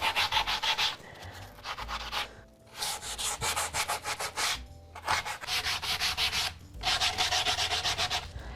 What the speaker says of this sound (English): I'm gonna run my sanding block all along the edges